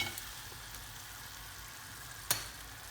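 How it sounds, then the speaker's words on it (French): Chicken browns in a pan for a courgette tajine: a continuous, even sizzle with no voices, broken by one sharp click of a utensil near the end. "On a laissé dorer un petit peu le poulet."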